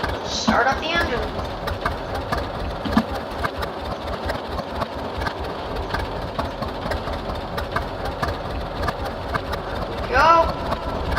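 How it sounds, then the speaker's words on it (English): An engine runs at a steady idle, a low rhythmic chugging rumble that holds throughout at moderate loudness, with a person speaking over it now and then and brief squeaks near the start and end. "Start up the engine."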